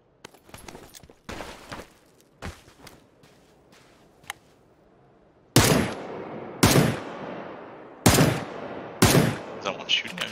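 Gunfire in PUBG on the Miramar map: a few soft, scattered shots early on, then a run of loud, sharp reports spaced about a second apart, each with a brief decaying tail.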